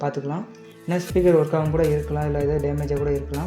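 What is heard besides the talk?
None of the usual background noises is heard.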